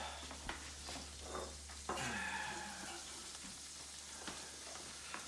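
Onion frying in butter and oil in a pan gives a steady, moderate sizzle with occasional stirring clatter and utensil taps, running continuously with no talking.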